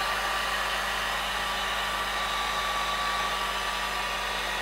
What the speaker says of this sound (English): I'm just moving my dryer above, on top of this snake kind of thing that I've made.